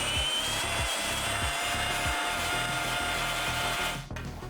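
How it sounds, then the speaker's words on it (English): A wire wheel on a power tool grinds against the quarter panel of a Nissan Skyline GTT, a harsh continuous whine with rhythmic scraping pulses for about four seconds before cutting off. "you can go ahead and hit it with the wire wheel"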